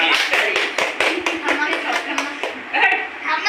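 A few people clap along in a quick, steady rhythm to a birthday song, close and lively, with voices singing and calling out over the claps.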